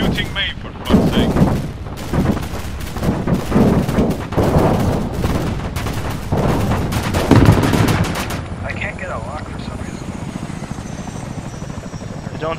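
Rapid bursts of gunfire from an air-combat video game, loud and repeated over a steady helicopter-like rotor drone, with the shooting stopping near the end as the engine hum continues alone.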